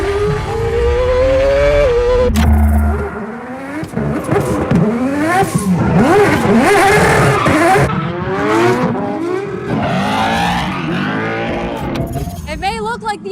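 Engines roar and rev as an F1 car, rally car, drift car and truck race one another, with shifting engine pitch, gear changes, tire squeal and skidding, loud and close, and a voice talking over it.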